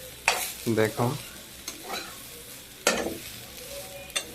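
Food frying in a pan is stirred with a utensil in a few short scraping bursts, close and moderately loud, while a person speaks briefly between the strokes.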